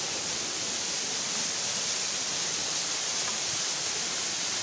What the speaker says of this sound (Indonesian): Ini ada air terjun.